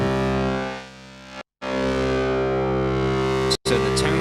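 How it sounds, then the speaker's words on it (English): A gritty, distorted Hydrasynth drone holds steady, briefly dropping out twice, with harsh crackly overtones near the end. "You can really thin out a sound if you want to get that thin industrial style distortion"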